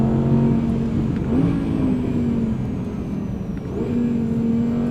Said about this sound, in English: As soon as you put your foot down on the throttle, it's ready to go.